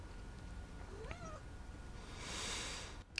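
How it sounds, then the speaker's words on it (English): A cat lets out a single short meow, fairly faint against a quiet indoor background, followed by a brief rushing noise and a soft knock at the end. "Wouldn't be a video without a cat or a bird disrupting it."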